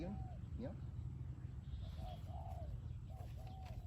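Soft, low cooing calls from a decoy dove being prepared for a cooing contest in Thailand repeat a few times at a distance over a steady outdoor background hum, with a faint chirp early on.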